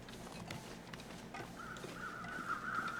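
Crows cawing in the snowy wilderness of the survival video game The Long Dark, a repeated harsh call over a windy ambient bed that grows louder toward the end.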